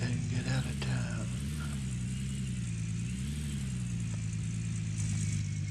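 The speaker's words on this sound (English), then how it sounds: "Turn on the engine." A car engine in the video game Gold Rush runs steadily at a mid-pitched idle with a dense continuous drone, fairly loud and close throughout, with a faint voice partly under it.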